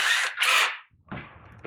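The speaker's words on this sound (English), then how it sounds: "Chuck that up in the drill" Power drill whirring in two loud bursts as it spins an all-thread bolt chucked for sanding, then a lower rougher grinding rattle after a short gap.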